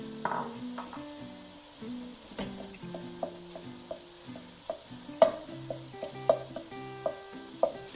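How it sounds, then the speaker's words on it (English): Ground pork tossed into a pan of partly cooked vegetables for a Bolognese sauce, frying with a steady soft sizzle while a spoon stirs, clinking against the pan in sharp taps toward the end. "Once the vegetables are cooked a little bit, let's go ahead and put the pork in."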